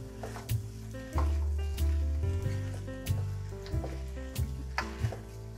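Beef cubes sizzling in a pan for a beef and butternut casserole, a soft steady sizzle broken by several sharp knocks of stirring, with a low tonal hum underneath.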